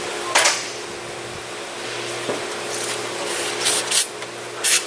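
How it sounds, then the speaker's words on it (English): Silicone penetrating fluid hisses in short bursts from a spray can onto an intercooler hose on a Hyundai Santa Fe, with a brief burst early and several closer-spaced bursts near the end over a quiet workshop background. "I'm spraying some silicone or penetrating fluid just to loosen that hose."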